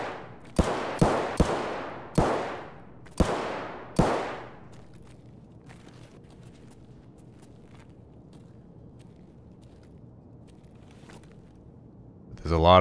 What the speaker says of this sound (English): There's a lot of shooting coming from that direction.